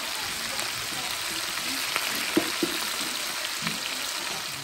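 Onions hit a hot pan and fry in a steady, close crackling sizzle with occasional small pops and stirring ticks. Cooking in a kitchen alongside smoked meat and sausage.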